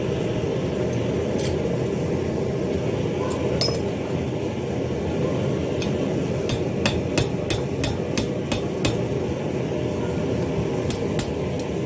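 Metal being hammered on an anvil while shaping a spiral candle holder, sharp ringing strikes coming in an irregular run, several close together near the end, over a steady loud background roar.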